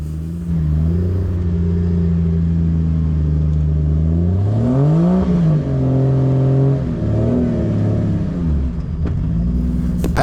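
A Jeep on Patagonia MT-02 mud tires revving hard while stuck in slick clay, the engine climbing and falling in long surging revs, loud and close, with no talking.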